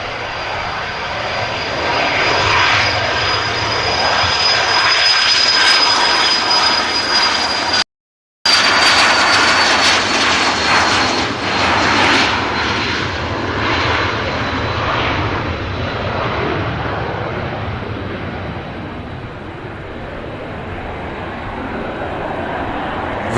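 A Cessna Citation business jet at Manchester Airport roars past close by, a loud, steady jet engine sound with a high whine that rises and then slowly fades as it moves away.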